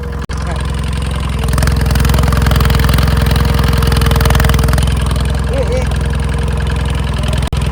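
A tractor engine idles steadily at close range, a low throbbing drone that swells slightly in loudness after the first second and holds even throughout.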